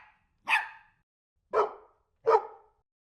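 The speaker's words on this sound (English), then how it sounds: "transform a small dog's bark into a much larger breed" Three deep dog barks, pitch-shifted to make a small dog sound like a much larger breed, spaced about a second apart, each short and loud against silence.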